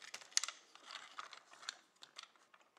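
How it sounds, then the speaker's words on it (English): Four screws on the cover of a Ranco ETC digital temperature controller driven in with a screwdriver, giving quiet, close, irregular clicks and ratcheting scrapes with brief pauses between turns. "And then tighten up the four screws."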